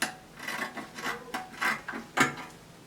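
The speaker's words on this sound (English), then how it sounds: "I'm cutting out the back neckline." Scissors snipping along the back neckline of fabric for a dress, a series of about eight soft, close crunching cuts in an uneven rhythm, quiet and alone.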